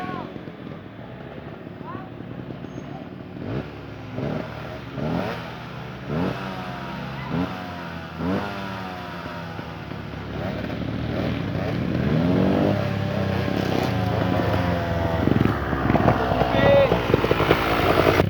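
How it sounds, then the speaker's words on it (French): Motorcycles revving loudly nearby at sunset, engine roar rising and falling in repeated throttle bursts and growing louder toward the end, with someone talking over the noise. "ils viennent faire un boucan pas possible avec leur moto là."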